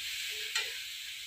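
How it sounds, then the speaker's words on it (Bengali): Simple spices with cumin powder, ginger and chilli fry with a soft, steady sizzle in a pan, broken by one quick scrape of stirring midway; quiet, with no talking. "মশলা ভাজা হয়ে গেছে"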